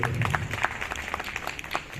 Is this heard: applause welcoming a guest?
yes